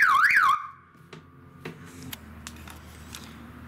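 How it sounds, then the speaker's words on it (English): A car alarm fitted to a racing lawn mower gives a loud, close warbling electronic siren for about half a second, then cuts off, leaving a low idling hum and a few faint clicks. "you got the car alarm"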